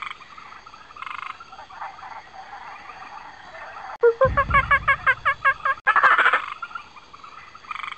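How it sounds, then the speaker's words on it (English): A red-eyed tree frog from a rainforest canopy, in an animated children's show, gives a run of rapid, pulsed croaking calls midway, loud and close, set against a quieter musical background. "This red-eyed tree frog lives in bromeliads up in the canopy"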